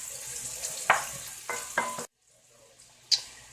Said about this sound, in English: Now it's time to put the shrimp in.